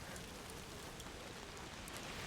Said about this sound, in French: Oh mais même l'effet de pluie, regardez-moi ça.